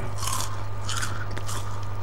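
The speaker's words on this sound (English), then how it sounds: "Man, I'm just chewing on this popcorn" Popcorn crunches close to the microphone in three distinct chewing bursts, each a crisp, bright crackle over a steady low hum, with no talking.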